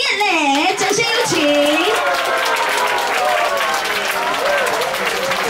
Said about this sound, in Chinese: 我希望所有的朋友们呢给他来点热烈的掌声跟欢呼声。